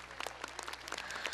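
An audience applauds after an art performance on stage: a short burst of dense, steady clapping from many hands, heard from a moderate distance.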